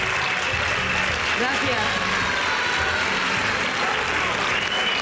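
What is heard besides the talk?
TV studio audience applause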